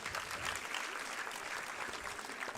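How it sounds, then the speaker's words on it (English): Applause for an award recipient at a school prize ceremony, a steady, dense wash of clapping from the audience lasting throughout without a break. "Let's give a big round of applause to Hanuram Vikas."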